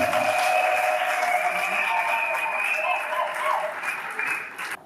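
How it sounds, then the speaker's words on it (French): Guests applaud at a Congolese civil wedding ceremony, a dense, continuous patter of many hands under a steady tonal hum and faint voices, easing off slightly near the end. "je vous prie d'applaudir de toutes les mains"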